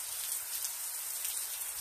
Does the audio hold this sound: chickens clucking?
no